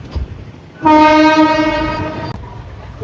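A passenger train at Guntur junction, diverting toward Macherla, blasts a long, loud horn over the rumble of the moving coaches, with wheels clattering softly before and after.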